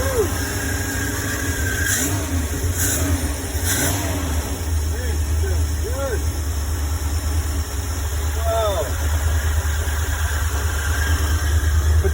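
A 1975 Ford E100 van engine runs steadily after its carburetor is primed, a loud low rumble filling the whole stretch with faint revving swells, while voices talk over it.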